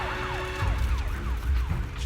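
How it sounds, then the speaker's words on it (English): A police siren from a video game wails in rising and falling sweeps over a low engine rumble, steady and fairly loud throughout. "Inspector Bringer's car has arrived."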